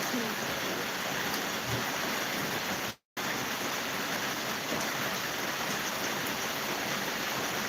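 Rain falls steadily and heavily, making a dense, even hiss that fills the whole stretch. The sound cuts out completely for a brief moment partway through, then resumes.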